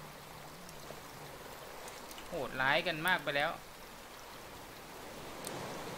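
Steady rain falls in the survival game Raft as a soft, even hiss in the background, while someone talks briefly over it partway through.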